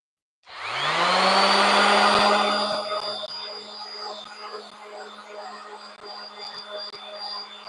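An electric sander switches on abruptly and runs with a steady whirring hum and whine, loud at first and then settling slightly quieter, with small clicks and handling noises, alone without talk.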